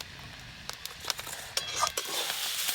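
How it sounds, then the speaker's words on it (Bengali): Chingri shak greens fry in a pan with a soft, steady sizzle, broken by scattered light scrapes and taps of a spatula stirring them close by. "চিংড়ি শাক ভাজা হয়ে গেছে"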